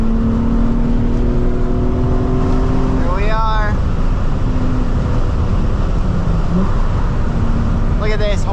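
Nissan 350Z engine on a freeway ramp, a steady loud drone with a rising rev and shift pitch sweep about a third of the way in and another near the end, heard from inside the car under a voice.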